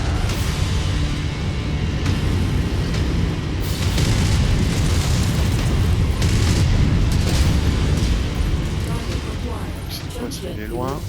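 Weapon fire from a mech in MechWarrior 5 during a jungle battle: a steady roar of booming blasts and explosive bursts stacked continuously for several seconds, loud and dense, with a few sharper impacts near the end.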